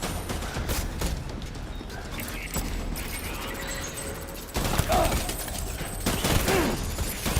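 Gunfire from the video game Death Stranding, a steady stream of sharp shots and clattering mechanical noise with a few brief tonal blips, loud throughout with a denser burst toward the end.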